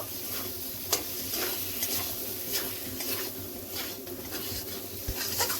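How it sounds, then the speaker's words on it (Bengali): Potatoes being stirred and fried with ridge gourd in spices in a pan: steady soft sizzle with scraping stir strokes and occasional utensil taps, close and continuous, no talk. "আলুগুলো দিয়ে দেবো, আলু দিয়ে মিশিয়ে নেব।"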